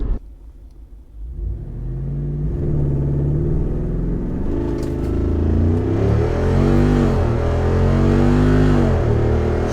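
Jeep Wrangler 392 V8 accelerating hard and upshifting right at redline, a loud close engine roar that climbs in pitch, drops at each shift and climbs again, with no talking.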